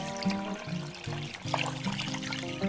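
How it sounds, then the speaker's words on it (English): Six cups of water pour into a cooking pot at home, a close gurgling trickle that rises in pitch as the pot fills, with brief breaks between pours. "Now I will add in my water, so I'll probably end up doing about probably 6 cups of water now"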